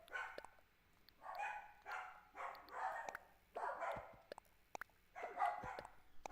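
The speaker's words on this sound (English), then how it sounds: "The dogs are going annoying again." Dogs bark from a distance in repeated bursts of yips and barks with short pauses between them, fairly faint and with no talking over them.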